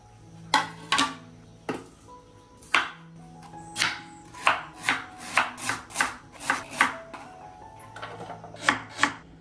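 A knife chops carrot and beetroot on a board for a fried side dish, a dozen or so sharp close knocks in an uneven rhythm with brief pauses, with no talking.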